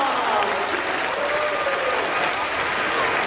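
A crowd at a dog show applauds steadily, a dense wash of clapping at even strength throughout, with some voices faintly mixed in.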